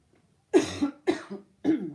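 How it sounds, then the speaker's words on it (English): Three sharp coughs in quick succession, close and fairly loud, with short pauses of silence between them. "I'm so sorry, I'm coughing"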